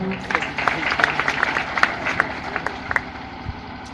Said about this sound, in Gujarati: આપણે તમામ મહેમાનોનું સ્વાગત તાળીઓના ગડગડાટથી વધાવીશું